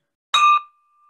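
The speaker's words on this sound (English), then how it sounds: "Ring the bell." One clear, bright ding from a small bell rung during an online meeting: a sharp strike followed by a thin, ringing tone that fades slowly, alone and close.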